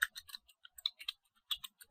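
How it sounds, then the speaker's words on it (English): Typing on a computer keyboard, a quick irregular run of light key clicks with brief pauses, close and quiet, with no speech. "now I have to type where it will go"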